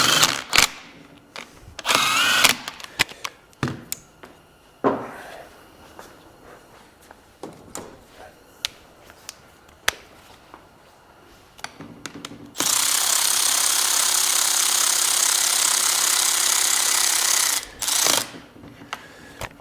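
A power tool removes bolts from a Suzuki GSXR 600/750 transmission. Scattered clicks, knocks and handling noises lead into a steady whirring run of about five seconds, close by, followed by a few more clanks.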